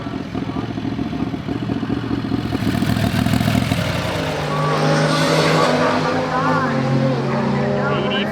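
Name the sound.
Turbo 670 dragster making a pass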